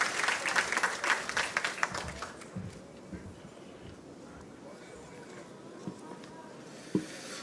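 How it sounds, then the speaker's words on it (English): An audience at a Co-op Tech completion ceremony claps for the graduating class, a burst of many hands that fades out within a few seconds and leaves a quiet, hollow hall with only scattered faint knocks. "Let's give a round of applause to the graduating class of 2023"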